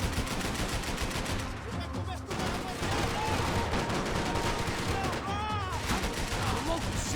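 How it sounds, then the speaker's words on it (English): Gunfire rattles in rapid bursts in a Max Payne 3 shootout, with bullets whizzing past as short descending whistles. The shots are loud and constant, one brief lull breaks them, and game voices come and go under the shooting. "I can't concentrate with bullets whizzing past my head"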